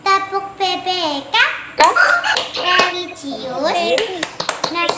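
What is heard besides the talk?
children's rhythmic PPK clapping chant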